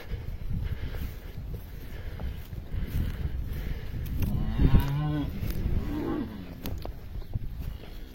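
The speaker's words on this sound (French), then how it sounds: "Voilà, donc les vaches là sont bloquées à 10 mètres." Cattle moo in an open pasture during grazing management, several low drawn-out calls rising over steady wind noise, one loud close moo near the middle, no talking.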